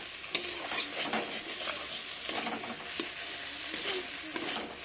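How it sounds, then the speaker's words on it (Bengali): Potato being stir-fried in a pan, with a continuous hiss of frying and repeated sharp scrapes and taps of a spatula against the metal. "এই দেখুন খুব সুন্দরভাবে কষিয়ে নিচ্ছি আলুটাকে দিয়ে।"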